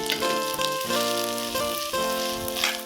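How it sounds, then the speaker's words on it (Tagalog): Cold leftover rice sizzles steadily in a pan with a little leftover oil and garlic, a close, continuous crackling fry with a faint tonal hum underneath. "Nagsangag po ako ng malamig na kanin"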